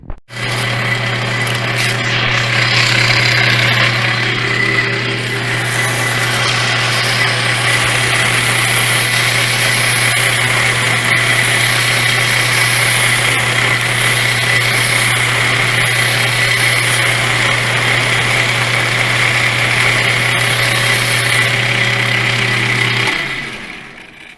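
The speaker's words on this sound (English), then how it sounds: "I love having a lathe to do stuff like this" A metal lathe running steadily for about twenty seconds while turning a part from a John Deere 60 tractor clutch, a loud constant mechanical hum and whine that starts up and cuts off at the end, with no talking.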